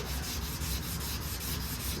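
Steady rhythmic rubbing of a sanding block across a car panel's clear coat, close and fairly quiet, with regular back-and-forth strokes repeating through the clip.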